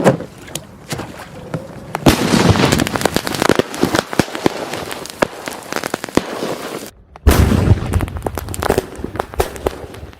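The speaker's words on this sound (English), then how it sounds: "Catches on fire and then it explodes." Sodium dropped into water catches fire and explodes, giving loud crackling, popping and fizzing bursts that run densely for several seconds, break off in a brief silence, then crackle back in.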